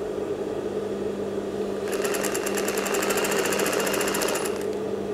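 A sewing machine stitching a baju kurung, a fast, loud even rattle of needle strokes that starts partway through and runs steadily before stopping near the end, over a constant motor hum, no talking.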